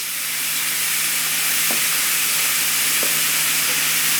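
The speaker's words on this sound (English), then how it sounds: "So when I lay this down, we should hear a sizzle." Ribeye steak sizzling steadily on a hot Himalayan salt block, a continuous close, fairly loud hiss and crackle with a couple of faint knocks, no talking.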